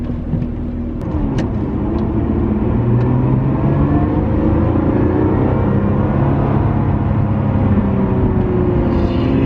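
A 2017 Lotus Evora 400, heard from inside with the engine behind the cabin, accelerating hard with a loud, sustained engine roar that rises steadily through the revs and never lets up.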